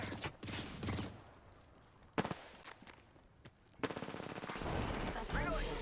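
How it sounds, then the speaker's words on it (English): Rapid gunfire in the Apex Legends video game, bursts of automatic shots with sharp single cracks between them, loud and close, continuing steadily toward the end. "Getting shot at."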